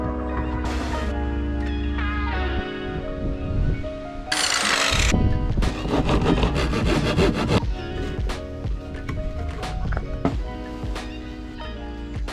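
Hand sawing of wood, including black timber, for building a side cabinet and bed ledge in a van conversion, heard as rapid rhythmic back-and-forth strokes in bursts, close and loud, with tonal background music playing throughout.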